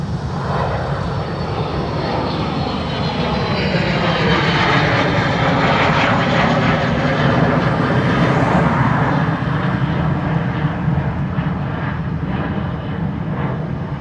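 A fixed-wing airliner lands at Dublin Airport, its jet engines a loud, continuous roar that swells and shifts in pitch as it passes close by, with no voices over it.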